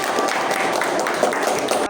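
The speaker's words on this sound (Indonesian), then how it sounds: "Oke, terima kasih, tepuk tangan dulu luar biasa" Classroom applause from students after a lesson segment, a dense steady wash of clapping filling about two seconds, close and fairly loud, with voices mixed in.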